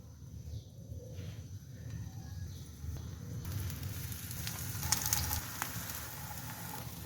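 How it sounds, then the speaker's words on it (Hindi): Eggplant slices fry in oil on a flat tawa, a steady close sizzle and crackle that swells louder partway through and carries on alone with no talk. "सारे बैंगन मैंने डाल दिए हैं। अब इनको फ्राई कर लेंगे।"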